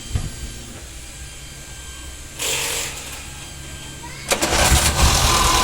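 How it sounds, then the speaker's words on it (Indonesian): A Daihatsu Gran Max van engine cranks and catches with two bursts, then settles into a low, steady idling hum, close by and fairly loud. "mesinnya kita sudah hidupkan. Jadi suara mesin ini mendengung."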